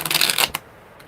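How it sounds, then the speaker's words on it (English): A quick riffle of tarot cards being shuffled, a brief flurry of crisp flapping that ends with a soft tap. "That was a terrible shuffle."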